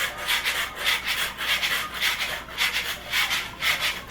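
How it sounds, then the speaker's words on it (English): A flexible blade scrapes excess flakes off a polyaspartic-coated garage floor, giving repeated rhythmic rubbing strokes, steady and fairly close, with no talking. "Just did a little bit of scraping myself."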